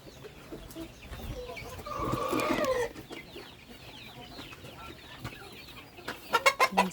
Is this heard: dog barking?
no